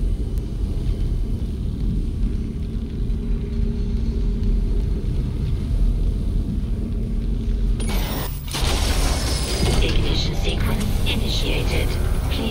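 A spacecraft engine ignition sequence in Dead Space Remake: a steady low engine rumble, then a brief drop and a bright, surging roar as the engine kicks in, with a voice speaking over it.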